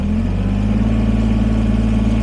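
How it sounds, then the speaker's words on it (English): A Kubota BX23S compact tractor with backhoe runs as it drives to the backyard. Its engine makes a steady, close, droning hum throughout, with no speech. "So now we're driving to the backyard with the BX23S."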